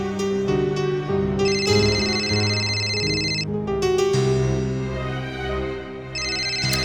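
A phone rings with a repeating melodic ringtone, bright electronic tones in bursts with short gaps, loud and close over a soft musical background.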